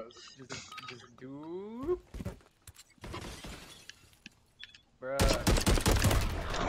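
Gunfire and shattering bursts in a Call of Duty match, scattered shots mid-clip then a loud dense volley at the end, mixed with excited voices and laughter throughout.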